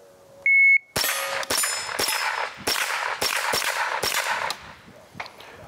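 Big bore revolver gunshots at a shooting stage: a beep starts it, then six or seven loud, sharp reports at roughly half-second spacing, each ringing off with a metallic clang before the next.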